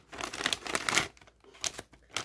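Scissors snip slits into a prepared wrapping for a home cough remedy, giving a quick run of close crinkling, tearing cuts that come in bursts with brief pauses between them.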